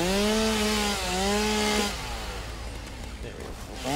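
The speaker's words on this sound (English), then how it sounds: "Oh, chainsaw time. Clear out this area." In the video game Satisfactory, a chainsaw cuts trees with a loud buzzing whine that revs up and down in the first two seconds. It then drops to a rougher, softer grinding rumble.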